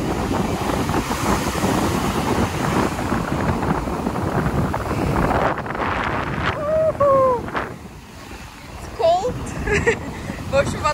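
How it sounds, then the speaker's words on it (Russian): Strong wind buffets the microphone over crashing surf at a beach for several seconds, then eases as brief voices and gull-like calls come through. "а то, что очень сильный ветер и сильные волны"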